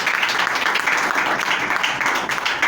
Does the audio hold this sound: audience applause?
yes